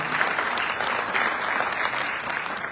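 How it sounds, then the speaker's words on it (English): An audience applauds at a formal event on ending violence against women and girls, a dense, steady clapping that holds at even loudness for the whole stretch with no voices over it. "Please give another round of applause for this."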